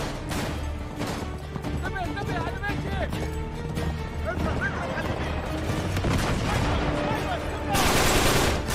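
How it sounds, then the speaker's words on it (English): Rapid gunfire bursts and fusillades crackle through the desert level of Uncharted 3: Drake's Deception. Voices and clattering action accompany the shots, which grow denser toward the end. "I'm trying to shoot, but it's hard."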